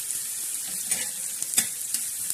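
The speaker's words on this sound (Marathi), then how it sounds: "तर आता आपला कांदा हा छान असा भाजून घेणार आहोत" Onion roasting in a pan for black masala gives a steady, close sizzle and crackle, with small pops scattered through and no voices.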